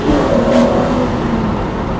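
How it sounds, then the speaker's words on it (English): A restored Datsun 240Z with its inline six-cylinder engine revving close by, a loud, smooth and steady engine drone with a slight rise in pitch that carries on without a pause. "It's got your typical 6-cylinder inline sound to it."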